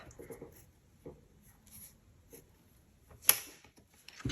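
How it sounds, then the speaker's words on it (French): Small pencil marks made on paper for a scrapbooking album, a few faint, brief scratchy strokes close by in a quiet room, ending with a sharper tap. "Je fais des petites marques sur mon papier pour vous montrer."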